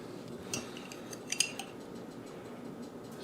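A metal spoon clinks against bowls while homemade chili oil is spooned in, a few light, bright taps close by in an otherwise quiet kitchen.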